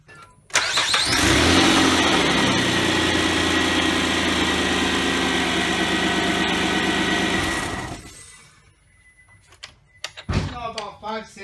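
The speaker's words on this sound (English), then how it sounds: "I'm going to put the top on and fire up the car for a little bit" A 2003 Nissan Altima 3.5 cranks and fires up, then idles loudly and steadily for several seconds before shutting off, followed by quieter clicks and rustles.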